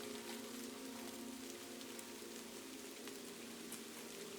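Steady rain patters on a roof on a rainy night in Kyoto, Japan, a dense continuous hiss of countless tiny drops with occasional brighter ticks, even and unbroken throughout with no voices.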